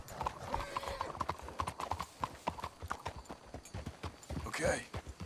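Horses walk in Red Dead Redemption II, a steady clip-clop of hooves close by with a brief neigh near the end, while voices talk over it.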